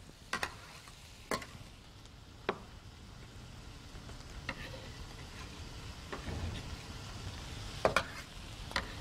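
Garlic sizzles quietly in a pan with softened vegetables, a steady low frying hiss broken by several sharp clicks and taps of stirring spread through the stretch, with nobody speaking.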